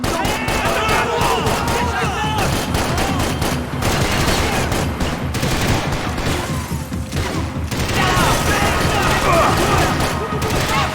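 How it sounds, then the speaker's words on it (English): Dense, loud gunfire in the video game Max Payne 3, continuous bursts of rapid shots and booms with barely a pause, under shouted voices from game characters. "You're shooting right at me!"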